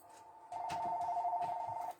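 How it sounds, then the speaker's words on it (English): A house telephone rings indoors, a steady electronic ring tone lasting about a second and a half with faint clatter from a nearby work table around it. "my house phone's ringing now."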